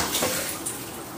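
Water is poured into a pot of cooking beans, giving a brief close splashing pour with a light bubbling hiss and no talk.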